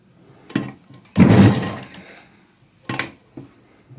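A sewing machine stitches a pocket on uniform trousers in short bursts, with one longer run of stitching and a few brief whirring spurts separated by quiet pauses.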